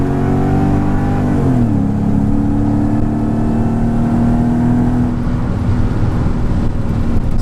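Supercharged Mercedes-Benz E55 AMG W210 with a Kleemann 55-K2 supercharger and a misfire, pulling under heavy load in third gear. Its loud, steady engine drone rises and falls slightly in pitch around the two-second mark and then holds on, with no talk.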